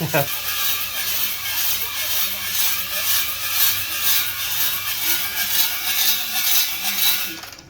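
A honing tool cleaning the cylinder bore of an LS engine, a steady rasping, whirring drone with a soft rhythmic pulse, close and loud, lasting throughout.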